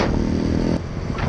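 A 2014 Honda Grom with an aftermarket eBay exhaust and 500 miles on it runs loud and close, its engine note steady and raspy with a short dip partway through.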